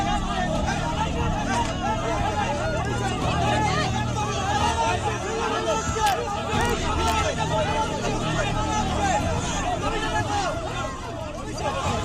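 An angry crowd chases and shouts behind politician Abhishek Banerjee during an attack in Bengal, a dense, continuous babble of many raised voices close by, with traffic noise mixed underneath.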